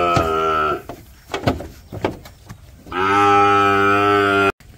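Angus heifers low loudly while being loaded onto a truck, two long drawn-out moos close by with clattering and thumping of the loading in between.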